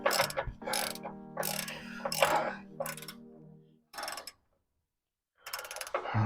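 Ratchet wrench clicking as it turns a 15 mm bolt on a 2014 Ford F250 during a vacuum pump leak repair; several close, loud bursts of rapid ratcheting separated by brief pauses.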